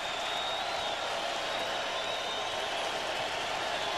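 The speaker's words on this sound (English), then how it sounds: "there you see Sprewell with his arms raised and the crowd yelling" A crowd in a basketball arena at a 1999 Heat vs Knicks playoff game roars and yells as a steady, hissing wall of noise that holds at an even level.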